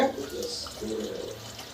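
Water is poured into a pan of spicy chicken gravy as a steady, moderate splashing stream over about two seconds, with a low background hum and no clear speech.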